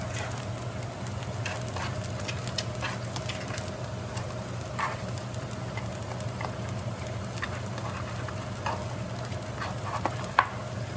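Dungeness crab meat and green onions stir-fried into rice in a hot pan, a steady close sizzle with scattered scraping of the spatula, no voices.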